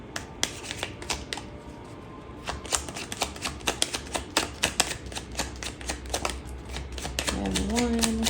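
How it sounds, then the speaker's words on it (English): Tarot cards are shuffled in quick riffling bursts of crisp, close papery clicks that grow busier midway, over a low steady background hum. "I'm going to go ahead and clarify with a couple cards for this hollowed heart."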